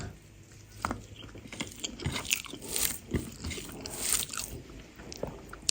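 Someone eats rice with loitta dried fish curry nearby, a run of irregular, close, moist chewing and soft bites with small clicks and scrapes, fairly quiet and with no talking.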